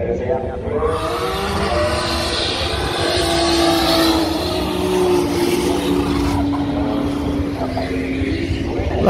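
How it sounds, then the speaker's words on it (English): Cars roll racing at a Powercruise event: a steady, loud engine roar holds throughout, with rising and shifting engine tones from vehicles at speed and a crowd or voices faintly underneath. "last up was a bit of roll racing."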